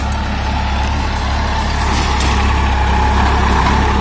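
A New Holland 3032 35 hp tractor pulls a 9-tine tiller, its engine a loud, close, steady low-pitched diesel drone with a continuous rhythmic throb and no speech.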